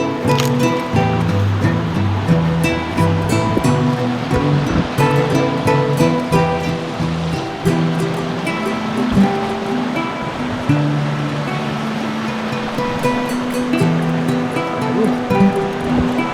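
Creek water rushes steadily along a rocky stream bed in the Blue Ridge mountains, a loud continuous wash of flowing water filling the whole scene without pause.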